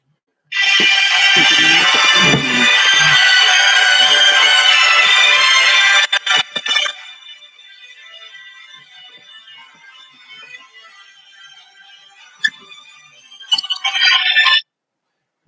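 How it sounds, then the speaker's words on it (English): Phone ringtone ringing loudly and close for about six seconds, then a quieter trailing tone and a brief final burst of ringing near the end, with no talking. "I'm about to change the ringtone"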